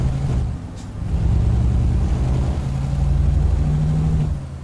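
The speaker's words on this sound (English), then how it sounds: "if I really jam down on the brakes, I get a much harder braking sound" A Mercedes NG1631 truck in Euro Truck Simulator 2 brakes hard, giving a brief air hiss and then a loud, sustained low rumbling and grinding of the engine and air brakes.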